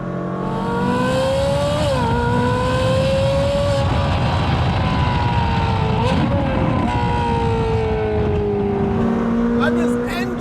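A Novitec-tuned Ferrari supercar engine revs hard and loud up close, pitch climbing and dropping through several sweeping rises over ten seconds, with a continuous roar throughout.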